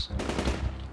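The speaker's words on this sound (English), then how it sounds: "Gunshots." A rapid burst of several gunshots in the video game Project Zomboid, loud and close, firing in quick succession like automatic fire.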